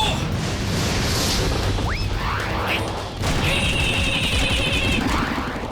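A cartoon robot fires a compression cannon: a whooshing charge-up and a burst of impacts, pops and crashes with a bright zinging tone, dense and loud with no speech.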